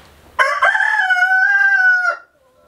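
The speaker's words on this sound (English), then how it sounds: "And George is being quite noisy." A rooster crows once, loud and close, a long drawn-out cock-a-doodle-doo lasting nearly two seconds before cutting off into quiet.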